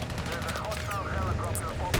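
Tank cannons fire in Battlefield 6 during a long-range engagement, with rapid, loud blasts and battlefield rumble running continuously and a sharp burst near the end.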